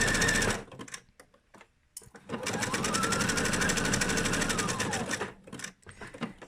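A sewing machine stitches around a felt cookie in steady mechanical runs, with a short burst, a pause, then a long continuous stretch of stitching up close, and little talk.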